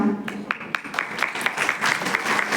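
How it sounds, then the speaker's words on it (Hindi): An audience at a Shivratri programme claps to welcome a singer, starting with a few separate claps that build into steady, moderately loud applause. "तालियों से हम स्वागत करते हैं पुनः दीपक भाई जी का"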